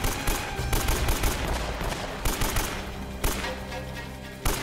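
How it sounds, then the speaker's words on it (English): Rapid bursts of gunfire from a firefight in Uncharted: Drake's Fortune, overlapping shots cracking in close succession with brief pauses between volleys. "Shoot him in the face."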